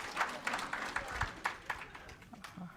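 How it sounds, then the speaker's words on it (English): Scattered applause from a presentation audience, a small group clapping in distinct rhythmic bursts that thin out toward the end, faint and fairly close. "let's give a round of applause for everyone"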